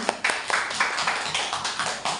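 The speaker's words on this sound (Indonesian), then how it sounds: "Mohon tepuk tangannya untuk Bapak Mas Buri." Scattered applause from a seminar audience for the presenter, with individual claps landing at an uneven pace, fairly close and moderately loud, and no talking over it.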